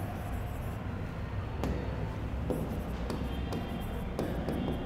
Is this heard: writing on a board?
yes